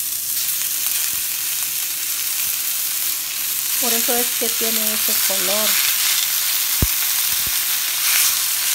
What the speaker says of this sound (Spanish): vamos a estar friendo nuestra carnita.